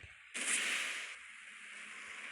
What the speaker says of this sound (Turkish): O patladı tamam.